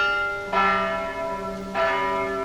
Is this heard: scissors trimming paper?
no